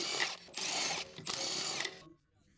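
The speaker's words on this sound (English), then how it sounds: "Use the large 21 mm long socket and large short extension bar with the large electric impact wrench to remove the wheel bolts." An electric impact wrench with a 21 mm long socket and short extension zips off the rear wheel bolts on a Ford F-series pickup, three loud, close rattling bursts in a row, then a quiet pause.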